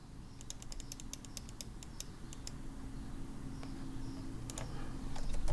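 A computer keyboard is tapped in quick clusters of light clicks, close and faint, over a steady low room hum with no talking.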